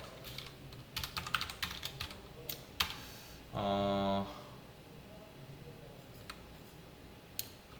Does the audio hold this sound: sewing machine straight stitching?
no